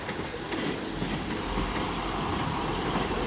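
A Class 159 diesel train in newer livery passes at Exeter St Davids station, producing a steady, close rumble with faint wheel noise throughout.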